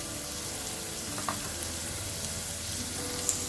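Onion and tomato frying with spices in a pan, a steady soft sizzle with faint stirring clicks throughout, no talking.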